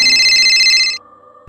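Telephone ringing, a bright electronic ring tone pulsing rapidly and loudly for under a second before cutting off abruptly, leaving a faint low hum.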